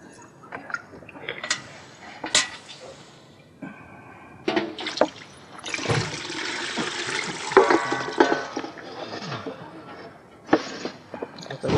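Water is poured into a vessel during a puja in Nashik, uneven splashing and gushing in bursts, with clinks and handling noises and occasional voices in the gaps.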